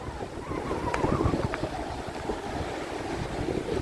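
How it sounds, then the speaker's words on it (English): Ocean waves wash onto the shore after a storm, a continuous rushing surf mixed with wind buffeting the microphone, steady and moderately loud with no speech. "listen to the sound of that ocean"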